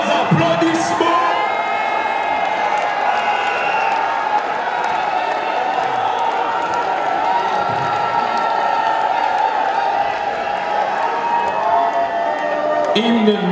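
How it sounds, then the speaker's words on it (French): Crowd applause and cheering fill a hall in Brussels at a gathering for the Congolese president, with steady clapping, whoops and shouts running continuously at close, loud level throughout. "Sous vos applaudissements"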